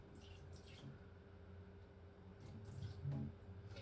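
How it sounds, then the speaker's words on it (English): Water poured into a soap bottle to fill it halfway, a faint, soft liquid trickle and gurgle that swells briefly near the end, heard alone in a quiet room. "We're gonna fill it up halfway with water."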